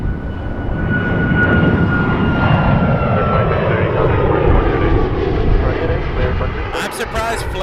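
A Flair Airlines jet roars past at Toronto Pearson airport, a loud, broad engine rumble with a whining tone that swells and then slowly recedes, with brief crackles near the end.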